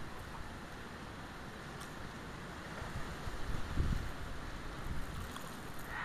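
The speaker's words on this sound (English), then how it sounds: "It's a pretty windy day out here." Strong wind buffets the microphone in a constant rushing roar, gusting louder partway through, with water sounds faintly beneath, on a lake at five in the morning.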